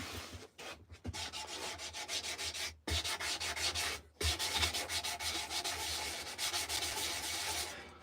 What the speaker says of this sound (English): This is one of those sanding blocks from Waydeer.